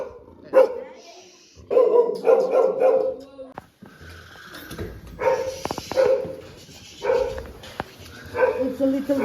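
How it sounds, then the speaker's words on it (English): Several dogs bark and yip indoors in bursts of loud, sharp barks spread across the stretch, while people talk over and between them. "Here, some dogs."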